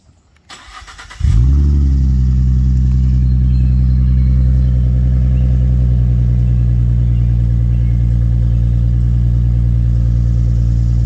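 A 2016 Ford Mustang with a V6 engine cranks briefly, catches and settles into a loud, steady idle rumble, heard up close with no voices.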